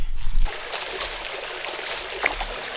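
A remote Alabama creek rushes and gurgles with broadband water noise, near and steady, after a brief louder thump at the start, with no talking.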